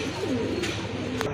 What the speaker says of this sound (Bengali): এখানে কিন্তু এক জোড়া গিরিবাজ কবুতর আছে, চুইটাল গিরিবাজ